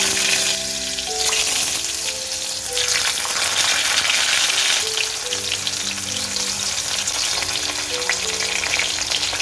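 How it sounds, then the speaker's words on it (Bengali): Pointed gourd, potato, beans and bitter gourd frying together in a home kitchen pan, giving a steady, close, dense sizzle with occasional stirring scrapes throughout, and no talking. "এগুলো আগে ভেজে নিচ্ছি"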